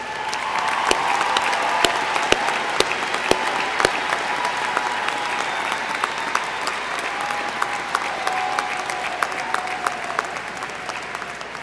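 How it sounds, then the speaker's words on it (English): An audience at a December commencement ceremony applauds the graduates in a long, steady round of clapping with a few sharp, distinct claps standing out, sustained and fairly close throughout. "let's give all of these graduates a round of applause"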